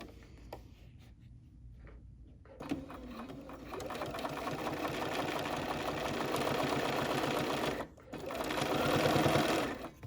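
Bernina sewing machine with a freehand system stitching a bear head, a steady rapid mechanical whir running close and loud for most of the stretch, with a brief pause near the end before it resumes.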